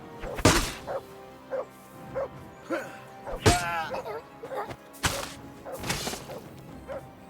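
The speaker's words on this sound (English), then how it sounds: "You're barking like crazy right now." A dog in the medieval video game Kingdom Come: Deliverance 2 barks repeatedly and loudly in short bursts, mixed with thumping hits, while someone talks over it.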